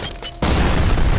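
A video game grenade goes off as a sudden loud, deep boom with a rumbling tail that fills the rest of the moment after brief quieter game noise.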